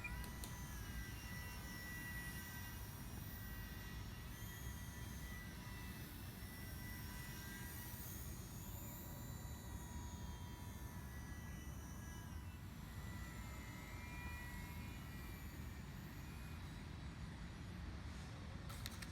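Electric RC model trainer airplane in flight, a continuous whining motor drone that holds steady throughout, with subtle pitch shifts as it passes at a moderate distance; no voices.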